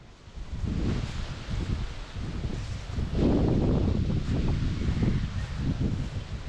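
Cold wind gusting across an outdoor microphone in a shaded spot in the Philippines, a steady low rumble with rustling that swells louder after a few seconds and carries on without talk.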